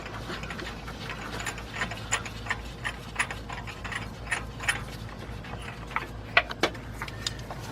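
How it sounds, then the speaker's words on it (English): A hand tool ratchets as it backs a spark plug out of a Honda Pilot engine, giving repeated quick clicking bursts at close range with short pauses between them and no talking. "unscrew that spark plug all the way"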